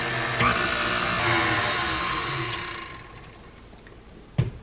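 An electric mixer whirs steadily through cookie batter as maple syrup and vanilla are mixed in, loud at first and easing off, then a single knock near the end.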